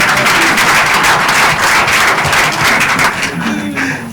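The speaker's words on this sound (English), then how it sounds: "Make una clap for my elder." Lively applause from a studio audience on a Nigerian call-in programme, steady clapping with murmuring voices underneath, tapering slightly toward the end.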